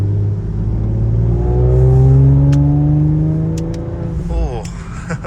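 A car engine revs hard at partial throttle, rising and falling in a loud close whine for several seconds, with a quick shift burst near the end.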